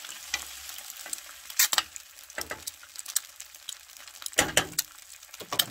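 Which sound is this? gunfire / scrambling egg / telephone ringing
scrambling egg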